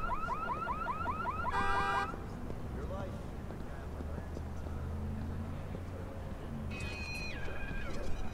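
A car alarm in the video game Watch Dogs, sounding as rapid repeated electronic chirps followed by a sharper beeping burst later on, while a voice talks over the game's background noise.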